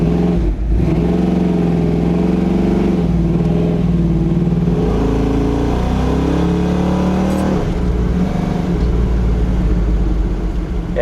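A 1997 Chevy S10 hot rod built for drag racing, with a 400 cubic inch small block Chevy engine and turbo 350 transmission, revs loudly up close, deep rumbling swells rising and falling with no voices.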